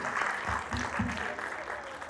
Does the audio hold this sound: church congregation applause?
yes